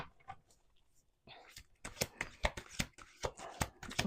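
Tarot cards are shuffled up close, first with a few soft taps and then with a quick run of crisp riffling snaps and slaps at an uneven rhythm.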